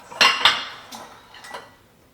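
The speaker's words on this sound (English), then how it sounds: "let me get a knife and a cutting board" A knife and a cutting board are taken out in a kitchen: two quick, bright metallic clatters close together, then a couple of softer knocks and scrapes, all near and alone.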